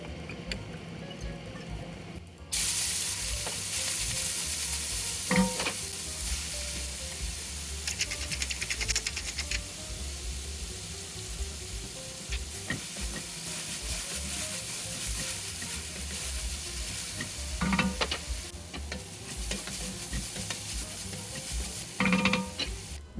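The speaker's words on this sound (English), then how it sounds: "we're gonna add in the carrots, the celery, the garlic, and then salt and pepper, and then cook for about 1 to 2 minutes until those vegetables are soft" Carrots, celery and garlic fry in a Dutch oven with a continuous, moderately loud sizzle and hiss. A few utensil knocks are scattered through the steady frying.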